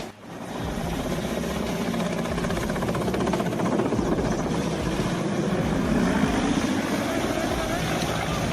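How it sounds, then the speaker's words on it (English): Mexican Mi-17 helicopter during an emergency landing, a loud, steady broadband rotor and engine roar that holds near constant throughout, with no clear talk. "Watch the emergency landing of a Mexican Mi-17 helicopter."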